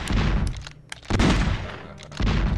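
Bursts of gunfire strike Superman in the Superman 64 video game, loud repeated volleys opening the moment and returning after a brief lull.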